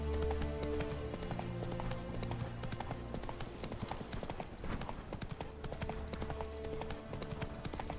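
Roach, the horse in The Witcher 3: Wild Hunt, gallops with a quick, steady clip-clop of hooves over continuous game music.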